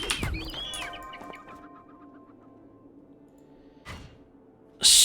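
Birds chirp in The Lord of the Rings Online, a few quick bright tweets at the start that fade into quiet game ambience, followed by a short burst of other noise near the end.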